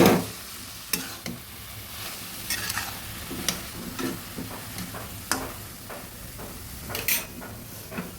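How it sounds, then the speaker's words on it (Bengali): Grated taro cooks with a catla fish head in a pan, stirred with repeated scraping clicks and spoon knocks over a low, continuous sizzle. "ভালোভাবে নেড়ে দিচ্ছি।"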